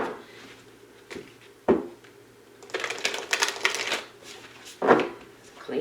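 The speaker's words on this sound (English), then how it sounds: "two more shuffles" An oracle card deck is shuffled with a few sharp card snaps and then a longer, rapid riffling burst at close range during a quiet reading.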